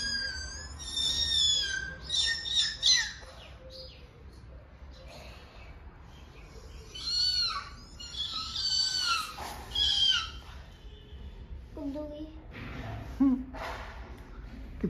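A cat mewing in several drawn-out cries at close range, with a person talking softly around it.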